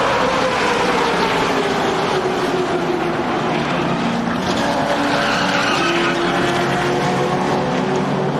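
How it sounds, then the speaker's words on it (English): 2004 NASCAR Busch Series stock cars crashing and skidding into the wall, heard as a loud, continuous roar of engines and tire scrub sweeping across a tightly packed field, with no break in the noise. "around goes Boyer off the bumper of Hamilton, who takes another car into the wall with him"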